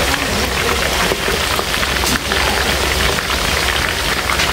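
A hotpot boiling hard and spattering at a family gathering, giving a dense, steady crackle and hiss like rain on a surface that runs unbroken throughout, close and loud, with no voices.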